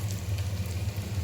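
Mustard seeds and asafoetida crackle and sizzle in a little hot oil in a pot on a gas stove, giving a brief, steady spattering hiss.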